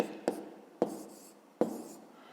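A pen writes numbers by hand on paper in a quiet room, with three short scratchy strokes, each beginning with a sharp tap.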